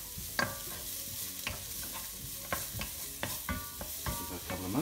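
Onions sweating in a pan while being stirred, a steady gentle sizzle broken by repeated close scraping strokes of a spoon against the pan, no voices.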